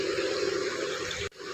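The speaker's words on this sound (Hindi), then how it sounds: "सबसे पहले एक स्ट्रेनर के अंदर कॉकटेल्स को डाल के हम इन्हें वॉश कर लेते हैं" Fruit cocktail and chamcham sweets rinsed in a strainer under running water, a steady close splashing rush that cuts off abruptly near the end before resuming faintly.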